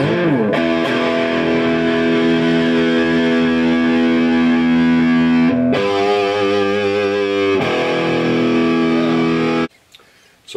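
A Gibson SG Standard electric guitar with mahogany body and neck plays loud distorted chords through a Marshall amplifier, sustained and ringing close up, then cuts off abruptly near the end.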